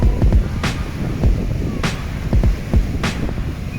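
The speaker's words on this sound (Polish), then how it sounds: "Zobaczcie moi drodzy te wzburzone fale." Rough, churning sea waves roll and crash against gusty wind on the Blackpool seafront, a constant roar broken by a few louder surges close to the microphone.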